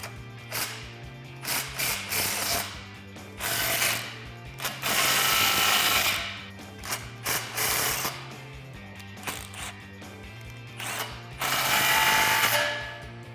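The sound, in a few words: 15mm socket ratchet tightening exhaust clamps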